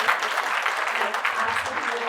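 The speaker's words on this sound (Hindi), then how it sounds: "इस पे तालियां तो बनती है" Audience applause at a live event with actress Rani Mukherji, a dense steady burst of clapping filling the whole short stretch.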